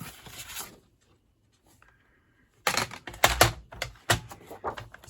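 Scissors snipping through a 12 by 8 inch sheet of cardstock for a Halloween treat bag, a quick run of crisp, close cuts after a brief quiet pause.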